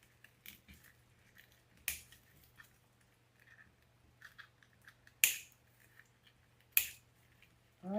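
Scissors snipping zip ties on a deco mesh Christmas wreath, three or four sharp, close clicks spaced seconds apart over quiet rustling and a low steady hum.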